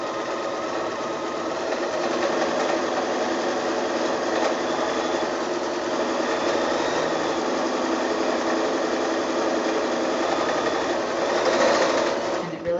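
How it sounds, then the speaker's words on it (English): A sewing machine runs steadily while zigzag stitching over the raw edges of fat-quarter fabric, a fast, even, close whirr that continues nearly unbroken throughout. "I start a little bit down from the top, back stitch up, and then I zigzag so that you're overcasting right over the raw edges"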